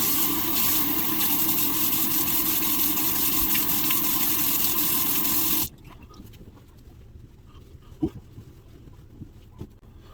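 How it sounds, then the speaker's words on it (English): Cold tap water runs loud and steady over a razor, rinsing it for several seconds, then cuts off abruptly, leaving faint drips and a few small knocks. "I'm gonna use cold water."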